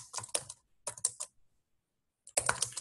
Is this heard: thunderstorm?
no